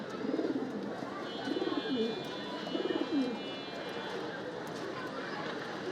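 Pigeons at a rooftop pigeon loft make low, throaty cooing in short repeated bursts, moderately close, over a constant background hum with faint high tones.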